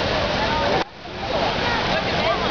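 Crown Fountain in Chicago spitting water: a loud, steady rush of falling and splashing water with a brief dip partway through, close and continuous.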